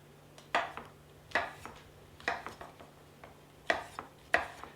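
A kitchen knife slices through whole mushrooms on a cutting board, a series of crisp, evenly spaced chops with soft knocks between, close and clear with no talking.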